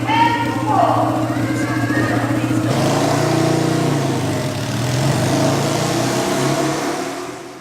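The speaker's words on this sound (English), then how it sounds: "Ken Wolfe takes our high-speed, 5-speed, 200cc articulated Honda go-kart all the way to the top of the wall" At a Wall of Death show, a 200cc five-speed articulated Honda go-kart engine drones and revs near and loud. The engine note rises and swells under an announcer's voice over a public address system.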